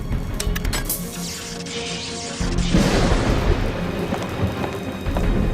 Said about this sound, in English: As soon as the ball at the top of the mast was struck by lightning